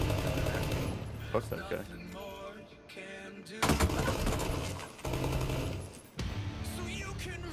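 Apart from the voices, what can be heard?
gunfire in a video game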